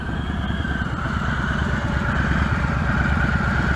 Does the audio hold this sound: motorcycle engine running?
yes